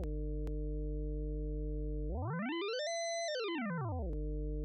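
A steady synthesizer tone from an ALM 010 Busy Circuits OAx2 Eurorack module, with attenuated LFO modulation, a low hum and layered overtones, sweeps smoothly up in pitch, holds briefly, then glides back down, loud and alone.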